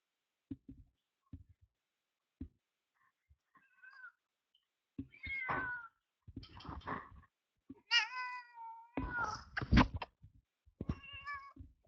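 A cat meows several times, drawn-out and complaining, with soft bumps and rustles between the calls in a quiet room.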